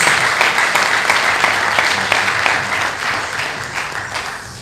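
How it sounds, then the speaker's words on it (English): A workshop audience gives loud, dense applause for a university registrar, a steady wash of many clapping hands that fades slightly toward the end. "Round of applause for him, please."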